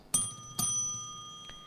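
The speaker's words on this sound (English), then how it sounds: "When the remaining time is 2 minutes, 2 minutes left, the bell will ring 1 time." Timer bell at a debate session strikes sharply twice in quick succession, each bright metallic ding ringing out and decaying slowly, followed by a fainter tap near the end.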